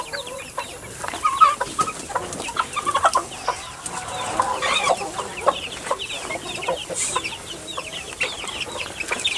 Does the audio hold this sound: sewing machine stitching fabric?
no